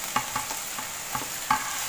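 Ginger, garlic and green chili stirred into onions frying in oil for an egg kuruma; a steady sizzle under four or five distinct scraping strokes of a spoon against the pan, close and alone.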